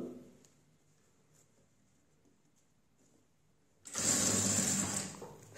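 Sewing machine stitching fabric piping onto a square neckline, a quiet start with faint ticks before the motor runs in one steady close whirring burst of about two seconds near the end.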